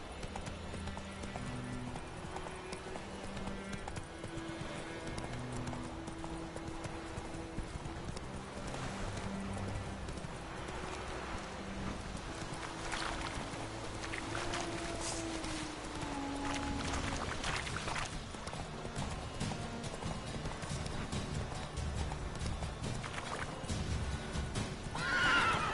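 A horse from The Witcher 3: Wild Hunt gallops steadily in a game scene, its hoofbeats clip-clopping continuously under melodic game music, with whinnies and occasional faint voices in the background.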